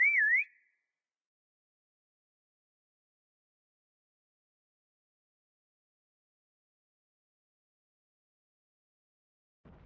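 A single short rising-and-falling whistle blast sounds at the start of a Prop Hunt video game round, clear and close, followed by near silence and a faint thump at the very end.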